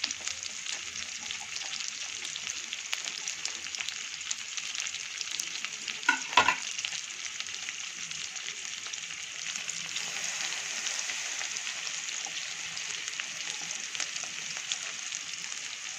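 Ginger garlic paste fries steadily in hot oil in a pan for aloo bonda, a continuous even sizzle with one brief louder scrape or stir near the middle.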